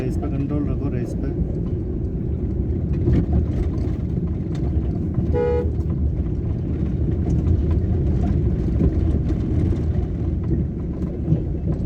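Car engine revving unevenly during a driving lesson, a loud continuous low rumble that rises and falls throughout, with an instructor's voice briefly heard over it.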